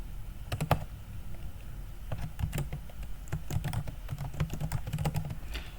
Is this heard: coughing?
no